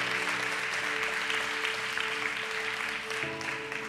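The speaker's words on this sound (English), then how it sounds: "Give the Lord a round of applause." A church congregation applauds the Lord during a bilingual Spanish-English sermon on water baptism, with continuous dense clapping from a large crowd filling the room evenly for a few seconds.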